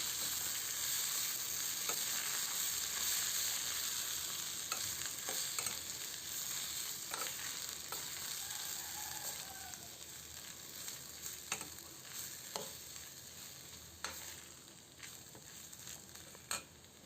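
Raw field beans frying with onions in a pan while being stirred, a continuous bright sizzle with scattered scraping clicks of the spoon, close and steady, gradually easing, with no voices.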